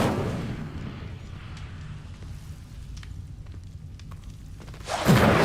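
Incendio fire spell cast in Hogwarts Legacy, a low rumbling whoosh that fades and then ends in a sharp, loud burst of flame, with no voice over it.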